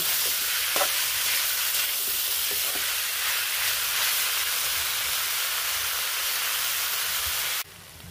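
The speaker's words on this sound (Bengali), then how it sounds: "এইভাবে নাড়াচাড়া করে আমি মোচার পোলাওটা রান্না করে নেব।" Banana flower pilaf with turmeric-coated rice cooks in a pan with a steady, close sizzling hiss, and faint scraping from stirring runs underneath. The sizzle drops away sharply near the end.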